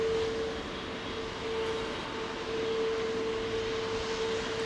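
A jumbo jet passes close by on Heathrow runway 09R, heard as a steady, loud, unbroken engine roar with a constant whine, alone with no voices.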